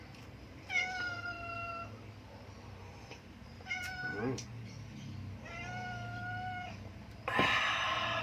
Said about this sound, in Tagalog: Nahihingi yung mga pusa.